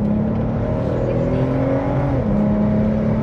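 A Volvo V60 T6 Polestar 3.0-litre turbo inline-six pulls hard in a 0-100 km/h run, a steady loud drone with harmonics climbing in pitch before a brief shift, continuous throughout.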